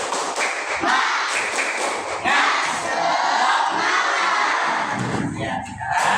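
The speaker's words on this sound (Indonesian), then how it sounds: "coba kita tepuk semangat dulu, sama ya. 1, 2, 3, tepuk semangat" A class of children performs the tepuk semangat chant in a classroom, shouting in unison over rhythmic clapping, thumps and taps, loud and close, with a busy burst of voices and claps toward the end.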